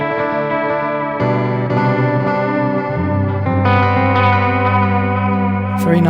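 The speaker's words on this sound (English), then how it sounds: "A mod delay" Electric guitar chords played through the mod delay effect of a Zoom G3Xn multi-effects processor, strummed several times in sequence with shimmering, wavering repeats sustaining loudly beneath each new chord.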